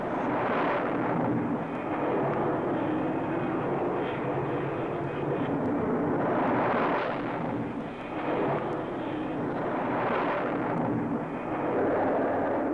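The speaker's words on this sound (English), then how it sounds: "Everything possible is done to maintain the rhythm of launching groups of aircraft," F-14 jets launch from an aircraft carrier deck during flight operations, making a loud, continuous jet roar that swells and fades in waves every few seconds.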